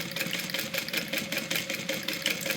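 A sewing machine running steadily while back stitching a tote bag pocket, its needle giving a fast, even mechanical chatter that stays loud and close with no pauses.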